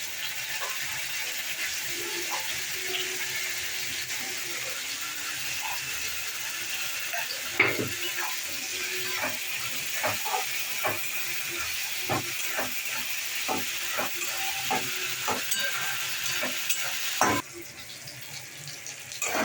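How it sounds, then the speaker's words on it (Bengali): Spice paste of cumin, coriander, ginger and dried chilli sizzles steadily in a pan, a constant frying hiss broken by frequent stirring scrapes and clicks, close by and alone without talk. "মশলাটা কষানো হয়ে গেছে"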